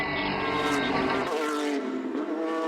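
A Porsche 992 Carrera Cup race car's naturally aspirated flat-six screams past at high revs during a race at Zhuzhou, a loud rasping howl with shifting pitch that drops away as the car moves off.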